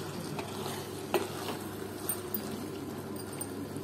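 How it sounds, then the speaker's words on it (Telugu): Village-style chicken curry being stirred in a pot, a continuous frying sizzle with scraping strokes and a few sharper knocks of the spoon against the pot. "ఒకసారి బాగా మిక్స్ చేసుకోండి అడుగంటకుండా"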